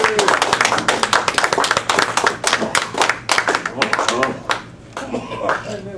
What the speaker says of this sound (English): Let's give a warm round of applause to our speaker for the evening